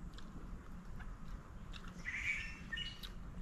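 Faint bird chirps and short tweets sound intermittently over a low background hiss, distant and sparse.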